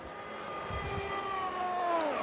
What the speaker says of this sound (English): As Alex now goes past in the Williams Martini